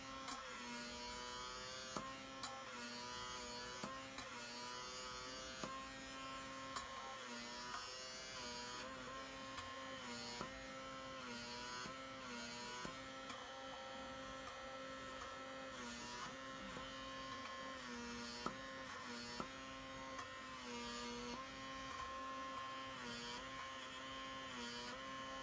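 A microdermabrasion facial device with suction running steadily, giving a constant motorized hum and buzz at low volume with no talking.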